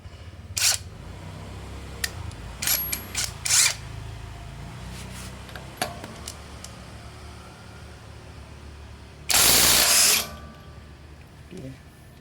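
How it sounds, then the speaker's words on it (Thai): An IMAN IW-400 electric impact wrench removes a nut tightened to 110 Nm: scattered clicks and handling knocks, then one loud buzzing hammering burst of about a second, followed by faint clicks. "เอาขันออกด้วยเบอร์ที่โลสุดดูกัน ว่าจะเอา น็อตที่ อัด ไว้ร้อยสิบนิวตันเมตรเนี่ยออกหรือเปล่านะ"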